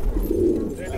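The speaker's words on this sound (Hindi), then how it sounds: "बहुत ही बढ़िया कबूतर है ये भी" A magpie pigeon gives a short, low coo close by, a single soft rolling call lasting under a second.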